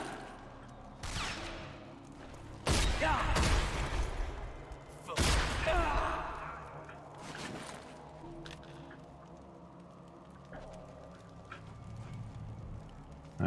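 Gunshots from the video game Rage, a few loud sharp blasts with heavy decay, including two strong bursts a couple of seconds apart, set against a steady game ambience.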